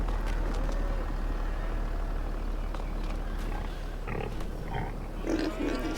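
Pig grunts from a farm in Farming Simulator 22, a few short bursts near the end over a steady low engine-like drone and background hum.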